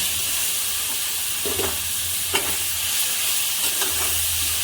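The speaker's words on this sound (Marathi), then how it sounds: "कारले पण छान मिक्स करून घ्यायचे" Bitter gourd pieces stirred in a spiced frying pan with turmeric, coriander-cumin powder and red chilli, a steady close sizzle with a few soft spoon scrapes and clatters, no speech.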